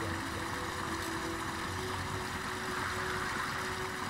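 Waterfall ambience in the video game Fable: The Lost Chapters, a constant, quiet rushing wash of falling water with a faint steady tone running through it, unchanging and with no one talking.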